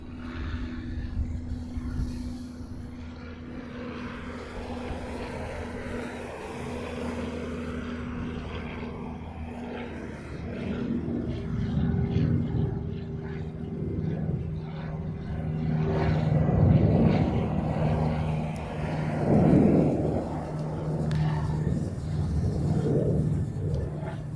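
A Boeing 747 "Queen" airliner departs during plane spotting in Hawaii, a distant jet roar building gradually from a low rumble into a broad, louder wash of engine noise over steady outdoor ambience.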